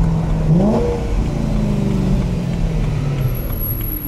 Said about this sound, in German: Hört euch das mal an, das ist einfach nur geil.